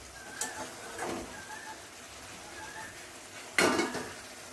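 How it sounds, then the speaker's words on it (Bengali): Metal and ceramic clinks ring out as egg kosha curry is served from a pan into a bowl, with a few scattered scrapes and a louder clatter near the end; no one is talking. "এখন আমি ডিমটা ঢেলে নেব"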